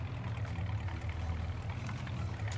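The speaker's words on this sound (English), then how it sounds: "I'm just going to turn off the engine here so we can actually hear each other." Farm vehicle engine idling in Farming Simulator 19, a steady low rumbling drone that stays constant and moderately loud with no talking.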